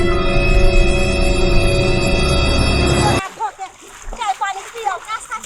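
Water splashes and pours steadily for about three seconds as hands and feet are washed, then cuts off abruptly, followed by people talking nearby.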